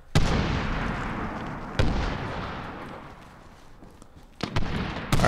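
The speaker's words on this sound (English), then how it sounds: "Just throw random grenades everywhere." Grenades go off in a multiplayer match of Medal of Honor Warfighter, several heavy booming blasts spaced out, each decaying into a rumbling tail.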